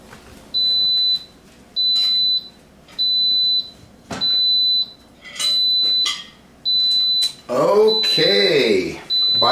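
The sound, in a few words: Insignia 6 quart pressure cooker done beeping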